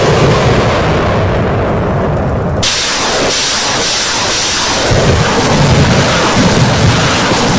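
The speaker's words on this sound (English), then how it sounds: "The artillery is called into action and the base is destroyed from kilometers away." Artillery fire destroying a suspected terrorist base, a loud continuous roar of blasts and rumbling, with a sharp booming surge partway through.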